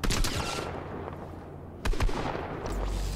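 Bursts of enemy gunfire in Fortnite Zero Build, rapid shots at the start and again near the two-second mark, fairly distant with a low rumble at the end.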